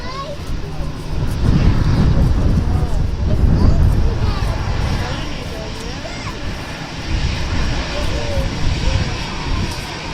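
An aircraft engine roars continuously at Manchester Airport, loud and broadband, swelling and easing over several seconds, with speech and distant children's voices faintly mixed in.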